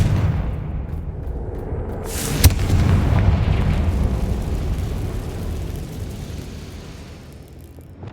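A Confringo spell in the video game Hogwarts Legacy bursts in a loud, booming explosion with a sharp crack, then a long rumbling roar that slowly fades.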